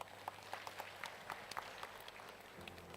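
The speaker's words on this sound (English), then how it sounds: "A big round of applause to our speakers and the moderator." Scattered audience applause at an annual seminar, with distinct individual claps popping out over a soft, steady background of clapping in a conference room.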